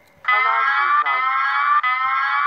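A synthetic electronic alarm tone from an NVDA screen reader clock add-on, a loud, steady buzzing beep that starts abruptly after a brief lower sweep, with two tiny breaks, heard alone.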